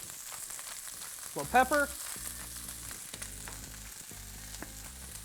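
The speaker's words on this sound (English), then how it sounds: "Now you just saute them" Food sautés in bacon grease in a pan, a steady close crackling sizzle throughout, with a short spoken remark briefly over it.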